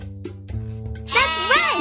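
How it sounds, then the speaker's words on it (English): A sheep bleats once in a loud, wavering cry, preceded by a low tonal background sound on a farm. "That's right! It's a sheep!"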